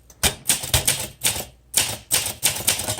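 Typing on a 1963 Olympia SM5 manual typewriter with a cursive typeface: close, sharp bursts of key strikes in uneven clusters with short pauses between them, no voices.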